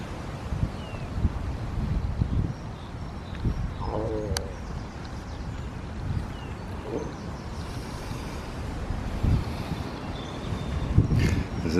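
Gusty wind blowing outdoors among garden plants, a steady broadband rush buffeting the microphone throughout, with faint bird calls in the distance.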